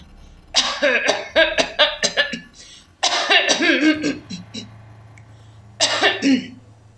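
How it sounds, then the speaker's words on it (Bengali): A man coughs in several harsh, rapid bursts up close, with a short break and a final cough near the end, over a low steady hum. "কর্নেল আচমকা কাশতে শুরু করলেন।"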